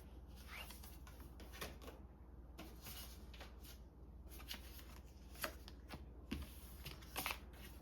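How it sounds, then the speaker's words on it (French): Tarot cards gathered up and shuffled by hand, a steady run of quick papery riffles and soft slaps, close and fairly quiet, with no talking. "On enlève toutes les cartes."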